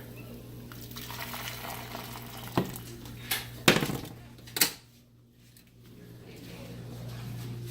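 Boiling water pours steadily with a soft liquid rush, punctuated by a few sharp clinks of a container, then settles into a quiet hiss.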